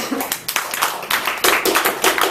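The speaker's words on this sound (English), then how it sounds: "Let's give everyone an applause." Audience applause at a Toastmasters club meeting in Metro Manila: brisk, dense clapping from a small room crowd, close and fairly loud, with individual hand claps audible throughout the short burst.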